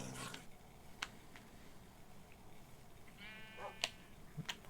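Sheep in the video game Minecraft bleat a few times, faint and spaced out over a quiet game background, with small clicks in between.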